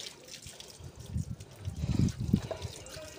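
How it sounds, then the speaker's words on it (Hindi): Water runs from a hose while a dog is bathed outdoors on a hot day, making a soft, steady trickling and splashing sound close by. "पानी भी हमने चालू कर दिया इसको, अब नहलाते हैं"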